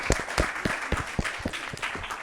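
A small group claps for a child who answered a scouting quiz question correctly, with distinct, uneven claps close by and no talking.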